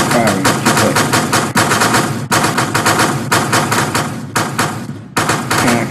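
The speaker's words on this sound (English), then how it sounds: "Now it may take 2 tries to actually get the weapon firing if you click." A weapon fires rapidly in the video game DevSaber: loud, dense bursts of automatic gunfire with brief gaps between volleys, no voices.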